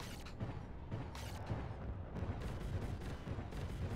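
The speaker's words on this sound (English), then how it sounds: "Coordinates locked for bomb drop." Airstrike bombs dropping in the Mecha Knights Nightmare mech video game: a dense barrage of repeated heavy booms and blasts rolling on for several seconds, loud and continuous with no talk over it.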